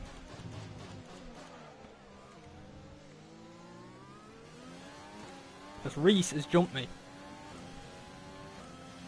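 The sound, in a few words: race car engine accelerating in an F1 racing video game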